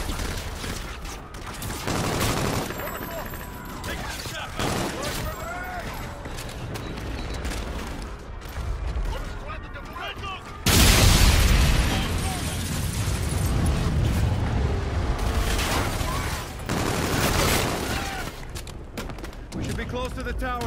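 Heavy gunfire and booming blasts pound through a space battle in Call of Duty: Infinite Warfare, with a dense, continuous roar and sudden louder bursts, while voices talk over the action.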